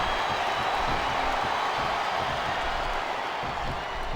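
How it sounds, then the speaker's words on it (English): Dense, steady crowd noise from a wrestling arena in WWE SmackDown vs Raw 2007, a broad continuous wash of many voices chanting at fairly low level with no clear individual words. "I'm not sure I agree with what the crowd is chanting"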